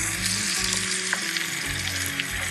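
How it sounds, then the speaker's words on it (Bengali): Tomatoes and a potato frying in hot oil, giving a loud, continuous close-up sizzle with faint stirring clicks throughout. "দেখেন টমেটোগুলি আমি এই তেলে ভেজে নিচ্ছি সঙ্গে একটা আলুও দিয়েছি"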